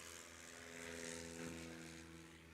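A Legend AL3 STOL aircraft at a short takeoff competition, its propeller engine giving a steady droning hum with a faint rise and fall, heard from a distance at low level.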